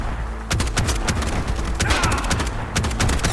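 Rapid, loud weapon blasts in the first-person shooter Bright Memory Infinite, fired in quick succession with heavy low thumps and sharp cracks over a constant game soundscape.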